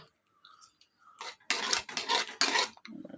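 A spoon scrapes and churns through a pot of black pea usal during mixing, a few quiet taps followed by three loud, gritty stirring strokes, close up.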